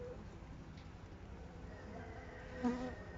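A faint, steady honeybee buzz close by at a hive, from a virus-infected, chilled bee, with a brief louder hum near the end against a quiet background.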